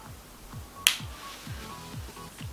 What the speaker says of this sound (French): AirPods de Mathias, tac. Les oreilles. Le bruit qui va bien